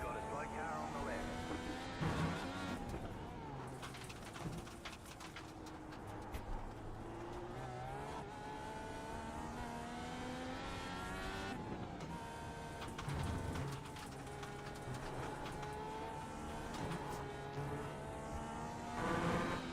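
An Indy DW12 race car in a racing video game, its high engine whine climbing and dropping through gear shifts over a sustained drone, with someone talking over it throughout.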